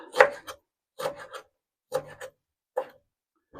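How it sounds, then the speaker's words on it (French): Wild garlic leaves sliced with a knife on a board: four crisp, evenly spaced cuts, each a short soft crunch of blade through leaves, close and quiet with silence between. "avec un couteau, je le coupe"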